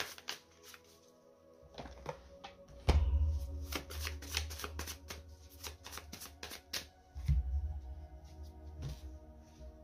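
Tarot cards are shuffled by hand in repeated quick riffling bursts, close and crisp, with a few heavier thumps as the deck is squared between shuffles.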